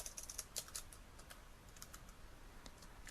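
Typing code on a computer keyboard, a faint, quiet patter of close key clicks, busier at the start and then sparse taps, with no voices.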